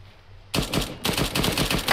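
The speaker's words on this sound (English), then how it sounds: "That's definitely gunfire to the southwest, I concur." Distant gunfire in the military shooter ARMA 3, heard as a short burst and then a longer string of rapid automatic shots popping steadily, fairly loud and with no voices.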